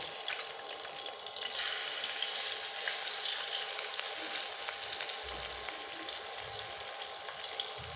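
Hilsa fish tail frying in oil in a pan, a steady dense sizzle and crackle running throughout with occasional soft clinks of a utensil, no voices.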